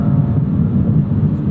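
A 2009 BMW E92 M3 engine produces a loud, steady low drone, a continuous deep rumble lasting the full moment with no voices over it.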